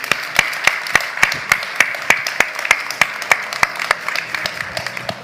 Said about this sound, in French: On applaudit normalement.